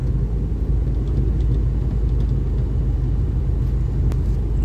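Car riding in stop-and-go traffic on EDSA, Manila, heard from inside as a steady low engine and road rumble that holds evenly throughout, with no talking.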